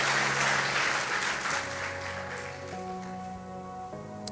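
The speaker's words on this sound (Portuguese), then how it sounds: "Dá uma salva de palmas em nome de Jesus" Church congregation applauding together during a worship service, with a sustained wash of dense clapping that fades slightly as soft organ or keyboard tones come in underneath.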